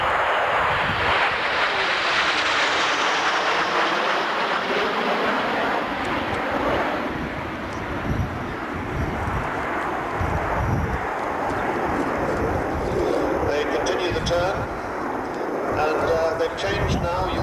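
French Air Force aerobatic team La Patrouille de France jets pass at an airshow, a broad rushing roar that swells and fades under an announcer's commentary.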